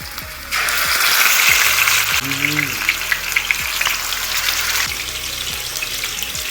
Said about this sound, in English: frying our pieces of chicken, and we just want to make sure that they are nice and brown